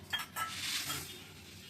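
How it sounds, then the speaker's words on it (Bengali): Mung dal being fried in a pan in a home kitchen, a few quick clinks and scrapes of a utensil against metal, then a soft hissing sizzle, close and moderately quiet. "রান্নাঘরে এসে মুগ ডালটা ভেজে দিব"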